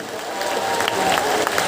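A crowd at a large live devotional gathering claps together in a dense, steady wave of applause that carries on through the whole moment.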